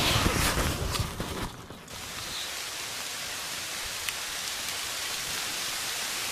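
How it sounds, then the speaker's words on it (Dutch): Heavy rain shower outdoors, a dense, loud wash of falling drops, rougher and more varied at first, then settling into a steady even hiss, with no talk. "Een dikke bonk met regen."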